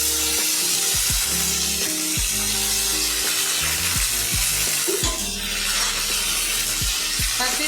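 Squash pieces drop into fenugreek-flavoured hot oil and fry with a soft, steady hiss and light spatter, largely masked by loud melodic background music.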